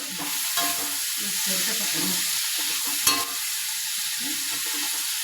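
Food stir-fried with salt in a pan until the moisture cooks off makes a steady close sizzle, with a utensil scraping and stirring throughout.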